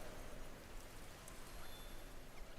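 Steady rain in the game Sky: Children of the Light, in an open elevated clearing, a soft continuous hiss of falling drops with no other sounds.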